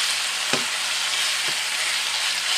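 Beef frying with lime juice in a hot pan, a loud continuous hiss of sizzling with two faint utensil knocks and no talk.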